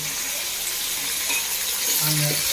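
Tomatoes sauté in a pan for coconut rice, a soft steady sizzle with light stirring noises and a short low tone near the end.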